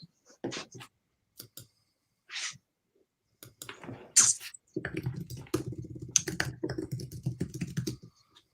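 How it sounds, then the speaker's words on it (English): Keystrokes clatter on a computer keyboard in irregular bursts, with a few isolated taps first and then a denser run of rapid typing. "I hear you typing away."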